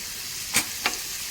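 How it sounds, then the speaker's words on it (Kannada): Finely chopped onion frying in a pan for Dhaba style kaju masala: a quiet, steady sizzle broken by two brief, sharper stirring scrapes close together. "ಚಿಕ್ಕದಾಗಿ ಹೆಚ್ಕೊಂಡಿರೋ ಈರುಳ್ಳಿ ಹಾಕಿ ಈಗ ಚೆನ್ನಾಗಿ ಕಂದು ಬಣ್ಣ ಬರೋ ತನಕ ಫ್ರೈ ಮಾಡ್ಕೋಬೇಕು ಇದನ್ನು"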